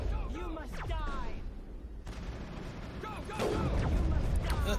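Mass Effect gunfire, bursts of loud shots with whooshing weapon effects and sweeping tones, dense and continuous with a heavier barrage near the end.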